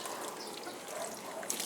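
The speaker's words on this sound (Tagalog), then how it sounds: "Bubuhos lang po natin yung tubig na may Clorox" Water mixed with Clorox bleach poured steadily onto the floor of a mushroom grow house for disinfection, a continuous splashing trickle at close range with no talk over it.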